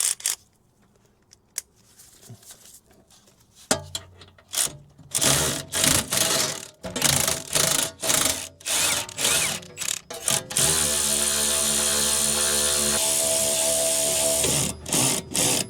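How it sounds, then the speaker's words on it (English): An electric ratchet on a suspension bolt of a 2013 Mercedes C-Class AMG, several short buzzing whirring bursts followed by a longer steady run, close and loud, with no talk. "we can just put the electric ratchet on it, to be fair, that will hold it"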